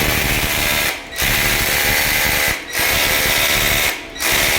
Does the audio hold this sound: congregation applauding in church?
no